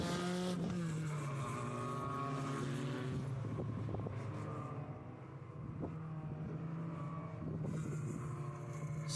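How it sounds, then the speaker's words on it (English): A pack of SCCA club race cars follows a pace car at a Cal Club track, their engines droning and growling steadily at a distance as several pass by with rising and falling pitch. "Pace car has pulled together the pack, and now they're going to try to keep the some temperature in those tires."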